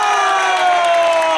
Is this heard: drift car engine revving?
no